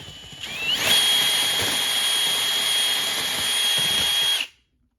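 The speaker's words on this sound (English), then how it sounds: "So we're going to drill a pilot hole." A power drill boring a pilot hole into a house joist spins up with a rising whine, then runs at a steady high pitch for a few seconds before stopping abruptly, close and loud.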